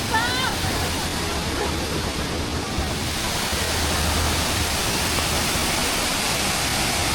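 Steady, broadband rush of a waterfall in northern Laos fills the scene, a constant close roar with no breaks, while faint voices are briefly heard at the start.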